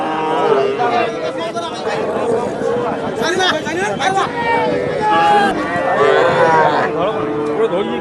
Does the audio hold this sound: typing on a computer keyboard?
no